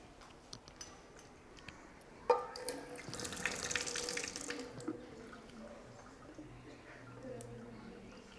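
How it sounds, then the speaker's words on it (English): Tap water running while a glass burette is rinsed in a chemistry practical, a moderate splashing flow that starts after a sharp knock and lasts a couple of seconds, then eases off into quieter drips and handling noises. "wash this apparatus with water. Then rinse this burette with acid."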